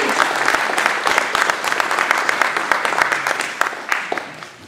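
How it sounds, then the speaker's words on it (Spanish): Dense, sustained applause from a seated audience at a beekeepers' course-workshop gathering in Paracas, Ica, Peru, with many overlapping claps forming a steady wash that thins slightly toward the end. "Yo quisiera pedirle un fuerte aplauso para los organizadores y para nuestro conferencista."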